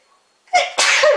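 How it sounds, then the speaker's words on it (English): A single sharp sneeze, close and loud, with a short inhale before the burst. "I'm going to sneeze now."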